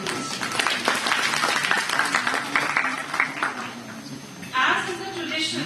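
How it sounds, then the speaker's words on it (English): Audience applause at the opening of an international conference at Punjabi University Patiala, a scattered clapping that swells across the room and runs under a voice speaking over it. "A big round of applause for the first day of this international conference."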